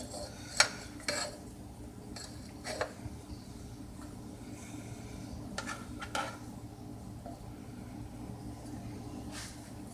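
Buffalo chicken in a pan being tilted to drain off excess buffalo sauce, heard as scattered clinks and scrapes of cookware and utensils over a quiet, faint background.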